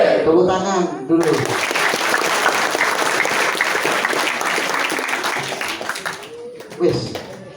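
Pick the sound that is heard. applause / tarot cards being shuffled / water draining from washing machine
applause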